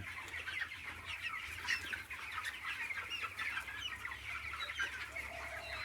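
Chickens on a poultry farm, twenty-day-old birds, keep up a steady chorus of overlapping clucks and chirps with no pauses. A low hum runs constantly underneath.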